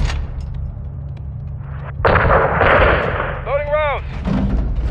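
Artillery bombardment in Call of Duty MW2, with a heavy burst of blasts and rumbling impacts after a quieter start, followed by whistling incoming shells and further thuds, loud and close.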